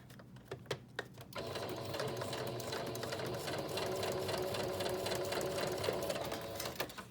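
A sewing machine stitches steadily in a fast, continuous mechanical whir after a few brief taps at the start, close and fairly loud.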